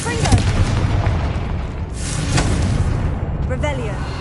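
Confringo fire spell blasts in the video game Hogwarts Legacy, several loud booming bursts with whooshing flare-ups in quick succession, close and forceful amid game effects.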